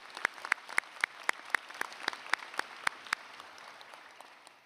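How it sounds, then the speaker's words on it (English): Sparse clapping from a small group at a medical school convocation ceremony, individual claps distinct and fairly regular, fading slightly toward the end. "Let's give them a round of applause."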